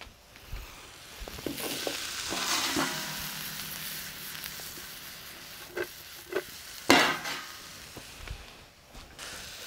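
Shallots and mushrooms sizzle in a pan over a fire, with a steady frying hiss broken by a few sharp stirring clinks and scrapes, close and moderately loud, with no talking.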